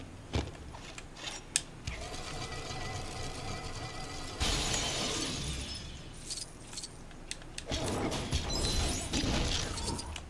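Glass shattering in the LEGO Marvel's Avengers video game, with several loud crashes and a tinkling spray of breaking pieces over game music and effects, close and bright, with no talk.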